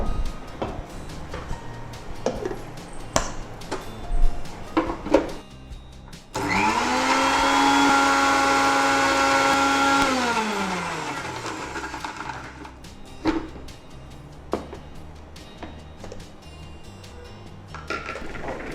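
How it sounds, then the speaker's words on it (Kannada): A kitchen blender whirs steadily for about six seconds while blending water for chilled buttermilk, with a rising spin-up and falling wind-down, framed by clinks and knocks of utensils before and after. "ಜಸ್ಟ್ ಒಮ್ಮೆ ಬ್ಲೆಂಡ್ ಮಾಡಿದ್ವಿ"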